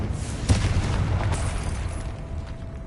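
A Confringo spell in the Hogwarts Legacy video game lets off a single booming blast about half a second in, and its rumbling tail fades across the remaining seconds with no talk over it.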